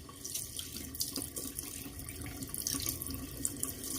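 Tap water runs steadily into a sink while a face is rinsed after a shave with a badger brush and soap, splashing softly and close with small irregular bursts.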